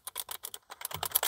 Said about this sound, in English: You can hook up a keyboard to this thing.